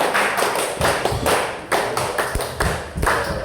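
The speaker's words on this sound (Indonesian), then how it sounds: "Kita sambut adik-adik dengan apa ini? Tepuk Indonesia." A group claps the rhythmic Tepuk Indonesia pattern at a community kick-off gathering in a coffee shop, sharp bursts of many hands in short quick sets with brief gaps, close and lively.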